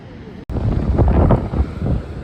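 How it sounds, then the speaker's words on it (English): Strong coastal wind buffets a microphone at Stilbaai, a loud, steady roar of low rumbling gusts that starts after a brief cut and continues throughout. "it's the wind's picked up quite a bit. I'm hoping you can hear me through all this wind."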